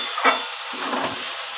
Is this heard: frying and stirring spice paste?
yes